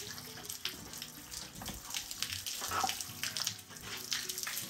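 Water runs from a hose while a horse is being bathed, a continuous rushing splash that swells and fades in fairly close, with no talk over it.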